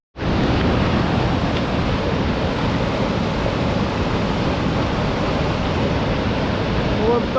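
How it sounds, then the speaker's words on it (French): A large waterfall on a mountain trail-running course thunders as a loud, steady broadband roar, continuous and close for the whole stretch. "Une énorme cascade."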